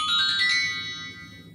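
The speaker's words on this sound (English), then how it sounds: "Loud ass phone again." A loud phone ringtone chimes alone in a bright, sustained melodic burst, clear and close, with a quiet background hum and no talking.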